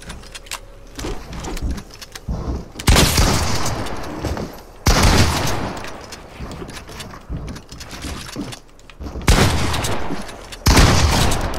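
Bursts of rapid video game gunfire, loud clustered volleys separated by quieter stretches, with no talking.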